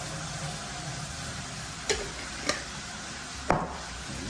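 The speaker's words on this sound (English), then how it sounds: "Then mix up all the season together like that." Seasoning and butter being stirred in a pan outdoors, with three sharp scraping clinks of the utensil spaced across a soft background sizzle.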